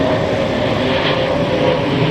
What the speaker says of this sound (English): Okay, plane landing.